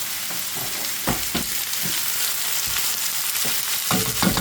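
Chopped portobello mushrooms fry in oil with a steady, close sizzle, broken by several sharp scrapes and clacks as a spoon stirs them through the pan.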